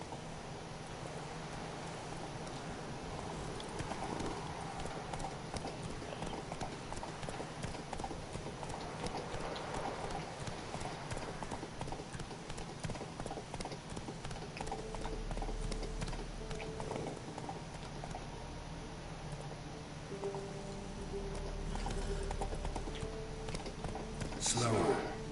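In The Witcher 3, the horse Roach trots along with a steady, rhythmic clip-clop of hooves, close and continuous, while someone talks over it at times.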